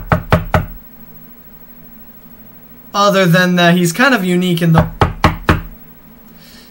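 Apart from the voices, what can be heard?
knocking on a door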